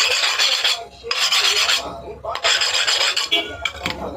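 Rasping strokes of a file along the freshly cut edge of a glass panel for a rice dispenser, loud and close, coming in bursts separated by short pauses.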